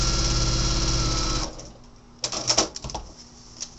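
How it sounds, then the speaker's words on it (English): A sewing machine stitches a paper-piecing seam with black thread, a fast close mechanical whirr for about a second and a half, then stops, followed by a few light clicks and taps. "you're going to make your first seam right along the line between one and two."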